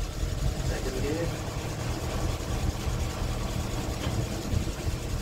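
A Datsun 1000 rumbles as it drives in second gear, a steady low engine drone held at even loudness throughout, with a voice talking faintly over it.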